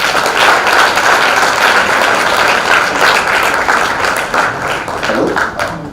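Sustained applause from a lecture audience, dense steady clapping that fills the room at an even level and begins to thin slightly toward the end.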